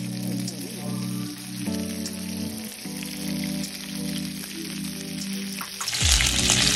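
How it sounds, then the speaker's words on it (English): Chicken frying in a dry pan with no oil, uncovered on a stovetop, gives a steady, close sizzling hiss that runs throughout under a low tonal hum, briefly swelling louder near the end. "just let it cook, uncovered for an additional 10 minutes"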